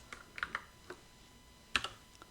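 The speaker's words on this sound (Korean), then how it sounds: "여러분은 F4키를 누르면 돼요" Key presses on a computer keyboard, including the F4 key, during spreadsheet work: a handful of quiet, sharp clicks spaced irregularly, with a brief cluster near the end, in a quiet room.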